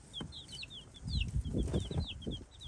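A hen clucks low and steady among her chicks, whose many high, thin peeps chirp repeatedly throughout, close by and without talk.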